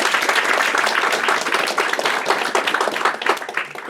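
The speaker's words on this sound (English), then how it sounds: "let's give Roi a last round of applause." A lecture audience gives a final round of applause, with loud, dense, steady clapping close by for the whole stretch and no talk over it.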